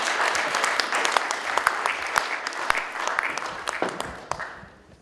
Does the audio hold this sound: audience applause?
yes